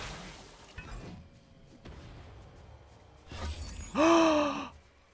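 A sharp audible gasp rising in pitch near the end, loud and close, after quieter breathy rustling and a couple of faint thumps.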